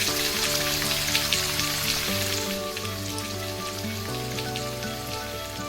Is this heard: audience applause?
no